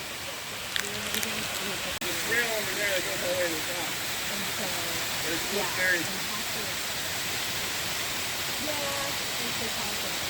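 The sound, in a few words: waterfall, Jones Waterfall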